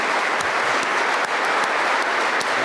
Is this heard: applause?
yes